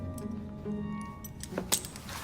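A ring of keys jangles briefly as it is handed over in Assassin's Creed Syndicate, a few light metallic clinks near the end over a low game ambience hum.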